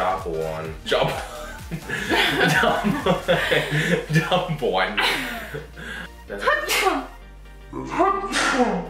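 A person sneezes during a makeup challenge, heard amid close-up chatter and chuckling, with talking before and after the sneeze.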